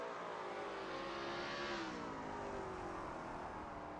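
A Lola T70 MkII Spyder race car roars steadily in a racing video game set at Kyalami, its engine note climbing and sweeping across the whole stretch, sounding distant and faint without any voices.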